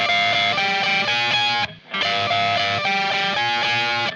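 Distorted electric guitar playing the chords of Incubus' "Rogues", bright strummed chords ringing in a steady pattern, with a brief cut to near silence midway before the chords resume.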